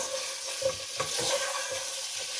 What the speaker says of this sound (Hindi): इसके साथ हल्का सा इसको ऑयल में भून लें